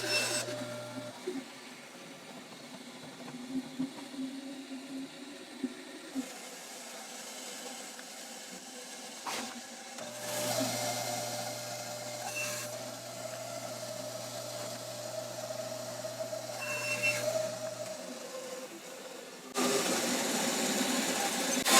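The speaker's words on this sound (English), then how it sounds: "I'm going to use my bandsaw sled." Bandsaw running on a sled to trim the end of a walnut pen blank for a Cuban pen kit, a steady machine drone with the blade's whine rising during the cut, near and without talk.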